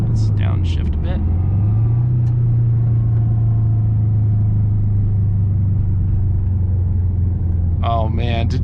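A 2008 Subaru Forester XT with a five-speed manual and a rebuilt engine drives at low speed after a downshift, its steady low engine drone filling the cabin, with brief speech at the start and end.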